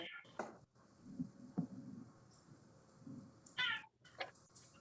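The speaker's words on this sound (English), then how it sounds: "It's probably my cat." A cat meowing indoors in a few short, faint calls, with two brighter meows near the end, heard under quiet room noise.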